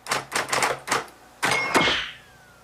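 A typewriter clacks in quick bursts of keystrokes, then a longer carriage sweep ending in a bell ding, close and clear with no talk.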